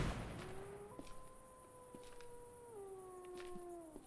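A dog in the video game Project Silverfish howls with a long, wavering, falling tone, fairly faint against quiet background noise with a few soft clicks.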